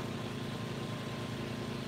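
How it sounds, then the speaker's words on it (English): A steady, low mechanical drone of a running generator and fan, constant and unchanging, fairly quiet with a broad rushing hum. "I have the generator and the fan going,"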